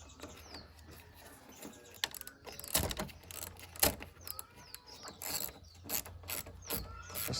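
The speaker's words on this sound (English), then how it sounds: "Gonna get our 10mm ratchet." A 10mm ratchet tightens the negative battery cable terminal on a Pontiac Vibe, giving a series of close, irregular clicking bursts and metallic rattles with no talk.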